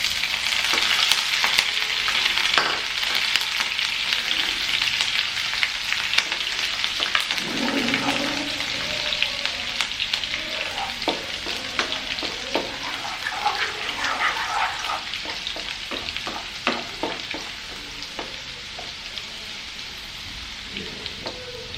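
Green chilies, ginger and garlic frying in hot oil give a steady, rain-like sizzle with scattered pops and crackles, close and continuous throughout.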